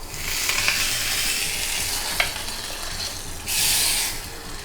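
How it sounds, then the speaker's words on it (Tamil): Steady crackling sizzle of mustard seeds, urad dal and cumin frying in hot coconut oil, with a brief louder burst of hissing near the end. "கொஞ்சம் கடுகு, உளுத்தம்பருப்பு, சீரகம் கூட்டுக்கு தாளிக்கிறோம்."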